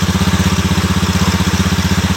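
A Honda Scoopy ESP scooter engine running with a fast, even pulsing chug, loud and close, steady throughout with no talking.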